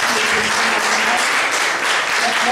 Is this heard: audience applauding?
yes